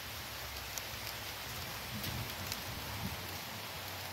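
Steady, even rain hissing down, with occasional heavier drops pattering on a surface nearby.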